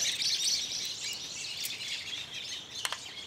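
Quiet, busy twittering of several birds, high and continuous, with a few sharper chirps near the end.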